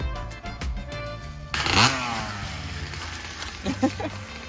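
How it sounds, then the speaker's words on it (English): Dirt bikes pass along a power-line trail in the Appalachian woods, engines swelling from a distance to a loud, close rush and then fading, with a second buzzing pass later; voices are heard early on. "Very cool, dirt bikes."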